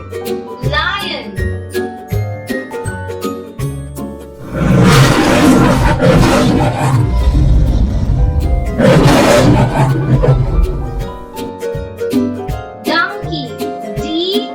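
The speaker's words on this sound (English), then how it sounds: "L-I-O-N, lion." A lion gives two loud, sustained roars, each lasting a couple of seconds, breaking through a cheerful children's song with a voice heard around them.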